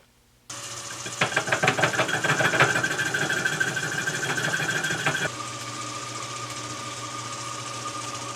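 A metal lathe facing off the end of a cast Scotch yoke part for a Gingery metal shaper: a steady motor hum that starts abruptly, with rapid rattling cutting chatter for several seconds before settling into a smoother drone.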